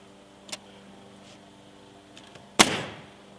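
A Ridgid framing nail gun fires once with a sharp, loud pneumatic crack and short decay, preceded by a fainter click; otherwise quiet.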